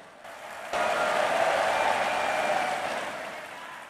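Audience applause at the 77th anniversary celebration of the Indonesian teachers' association PGRI in Semarang, a loud, steady burst of clapping that starts abruptly, holds for a few seconds, then slowly fades.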